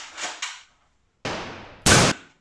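Gunfire in Fortnite, a pair of quick muffled pops followed after a pause by two loud, close, sharp shots, with no talking.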